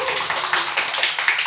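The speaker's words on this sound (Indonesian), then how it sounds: "Tepuk tangan lu dong buat Arkau." Applause for Arkaw as a dense, steady patter of many hands clapping, fairly close and continuous throughout, with no other sound over it.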